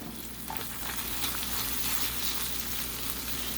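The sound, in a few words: ground beef, mushrooms and onions stirred in a frying pan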